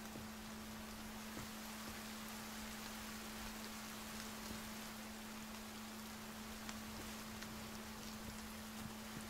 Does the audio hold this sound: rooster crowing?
no